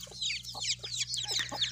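Lasani breed chickens clucking close by, a run of short, bright, repeated calls tumbling over one another with no pause, over a low steady hum.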